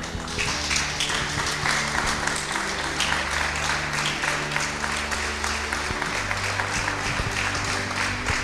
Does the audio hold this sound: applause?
yes